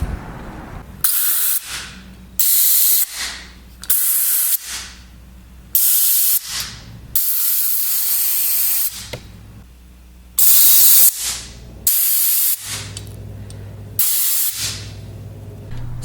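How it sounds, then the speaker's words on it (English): Compressed air blasts through the main body of a Holley 750 cfm 4150 carburetor being rebuilt, in about ten sharp, loud hissing bursts of uneven length with short pauses between them. "I'll be blowing compressed air through afterwards"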